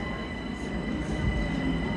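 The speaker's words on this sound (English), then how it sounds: "Little Hampton train's now departing," A Littlehampton-bound train pulls out of Clapham Junction station, giving a moderate, steady low rumble of wheels and motors that rolls on without a break.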